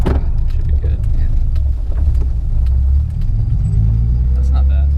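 A 1972 Datsun 240Z engine revving under acceleration, a steady loud low rumble heard from inside the car with brief talk over it.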